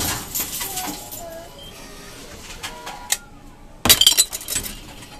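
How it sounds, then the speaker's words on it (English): An Envipco 1500CF Triple multi reverse vending machine at a Kmart in Penn Station, New York, crushes a glass bottle in its compactor: a sudden loud burst of breaking glass and clinks after steady mechanical hum and store ambience. "It took the glass bottle, didn't read it, and went straight into the fucking compactor."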